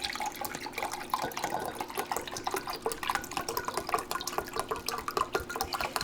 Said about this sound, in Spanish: Y vamos a ponerle 2 tazas de vinagre de la misma forma.